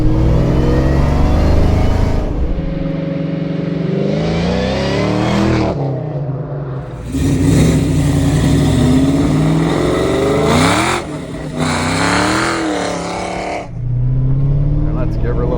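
A Foxbody Mustang 5.0 V8 with a Kenne Bell 2.1L Flowzilla supercharger revs repeatedly on the road, the engine note rising and falling loud and close, with a supercharger whine and speech heard alongside.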